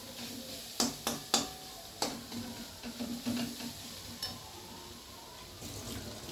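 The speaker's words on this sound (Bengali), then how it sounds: "সঙ্গে আদা রসুন সব ভালোভাবে আবার মিশিয়ে নিচ্ছি এবং পেঁয়াজটাকে আবার কষাচ্ছি" Chopped onion sautés in a pan with ginger and garlic for a prawn curry, a soft, quiet sizzle broken by a few clacking stirs of a spatula near the start and scattered scrapes later.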